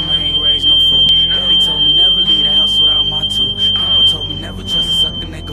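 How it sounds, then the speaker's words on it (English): A piercing, high-pitched smoke alarm beeps continuously while people talk loudly over it. "The smoke alarm went off and everybody"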